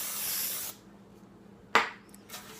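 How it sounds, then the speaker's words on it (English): A can of baking spray with flour in it hisses onto a cake pan in a close, steady burst of about three-quarters of a second, then stops, followed by a brief clatter and another short spray burst. "I'm going to take this pan and I'm going to spray it down."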